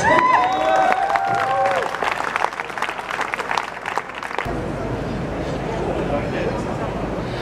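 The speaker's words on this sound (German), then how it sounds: "Applaus für Ort" At a solidarity rally in Graz, a crowd claps and cheers for a player of a Styrian button accordion, with a voice over the applause at first, then a steadier hum of clapping and crowd noise.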